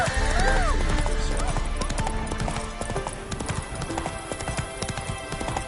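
Horse hooves clip-clop steadily in The Witcher 3, a rhythmic trot under game music and ambient noise, with a horse whinny near the start and voices talking over it.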